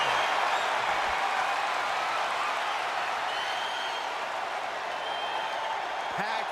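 Steady roar of a packed arena crowd in the wrestling game WWE 2K25, with a broad continuous wash of cheering and applause holding at an even level throughout and no clear individual voices.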